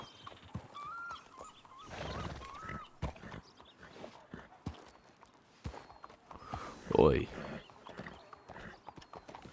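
Horse hooves clip-clopping in a Wild West role-play video game. Light, uneven hoofbeats tap under frequent casual talk between players, with a louder burst of voices near the end.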